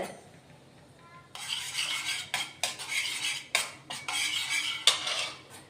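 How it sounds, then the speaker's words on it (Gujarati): Dry fruits are stirred in ghee in a pan with a metal spoon, which makes repeated loud scraping strokes in irregular bursts after a quiet start, while a faint sizzle runs underneath. "આને આપણે હલાવીશું એટલે જેથી કરીને બળે નહીં"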